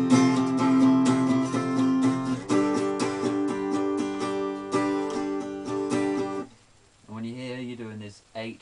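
Acoustic guitar strumming a riff, bright repeated chord strums for several seconds, then a pause before a short spoken voice enters at the end.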